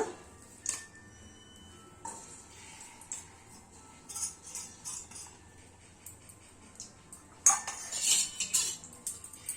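Jaggery is stirred into ghee in a pan for sweet bhagar. Faint, irregular spoon scrapes and light clinks sound against the pan, and the stirring gets briefly louder and busier near the end.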